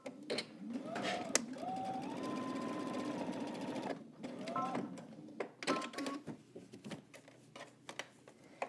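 A home sewing machine stitches a garment casing closed, running in a steady whirring burst, pausing, then buzzing in shorter runs with a reverse backstitch, amid clicks and handling sounds, fairly close and moderately quiet.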